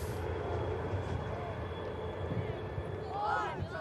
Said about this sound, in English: A couple of aircraft on the approach as well now